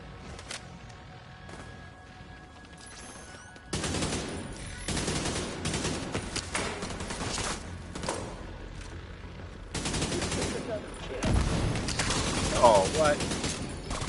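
Automatic AK rifle fire in the Destiny 2 video game rattles out in loud, rapid bursts that come in repeated close volleys, with quieter gaps between some bursts.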